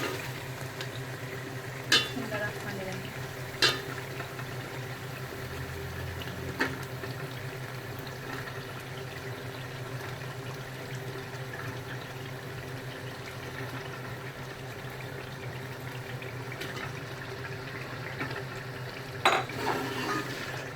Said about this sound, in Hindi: अब इसको मैं कोफ्ते डाल के भूनूँगी